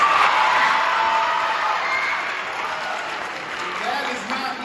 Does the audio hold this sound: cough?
no